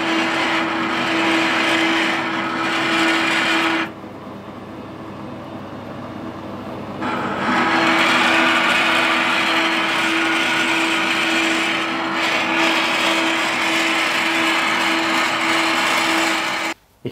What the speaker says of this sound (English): The drill's blunt, which is ideal for cutting this stuff.